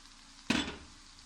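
Chopped onion hits hot oil in a pan for a healthy home-cooked dish, a single sudden sizzling burst that fades over about half a second into quieter frying.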